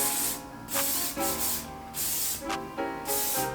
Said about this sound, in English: I'm gonna spray it with this hairspray